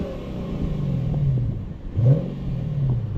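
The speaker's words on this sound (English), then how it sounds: "let's hear the exhaust on this thing." The exhaust of a 2023 Lexus IS 500 F Sport Performance in Sport Plus mode revs up, dips and revs again in two swelling bursts, a deep rumbling V8 note heard steadily with no talk.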